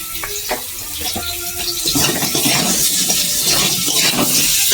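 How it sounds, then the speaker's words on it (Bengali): Potatoes frying in oil in a pan for a Bengali koi fish and okra curry: a few light clanks at first, then a steady, loud sizzling hiss that builds and holds without talk. "আর একটু তেল দিয়ে দেবো আলু ভাজার জন্য"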